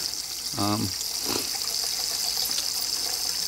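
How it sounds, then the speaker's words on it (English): Air breaking the siphon in an aquaponic grow bed, a soft gurgle and brief gush of water over a steady running-water background, with faint voices. "that's the air suction breaking the siphon. And you get the outside air breaking that suction"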